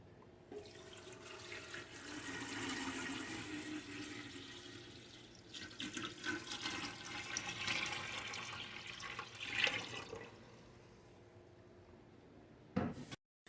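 Water is poured from a jug into a Berkey water filter, making a soft gushing and splashing that swells and fades over several seconds before a final clunk.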